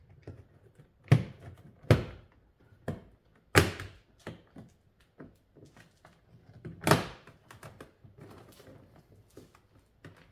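An Audi B6 A4 front passenger door trim panel is pressed into place with a series of sharp plastic snaps and thumps, several loud clicks spaced irregularly among softer taps in a quiet space.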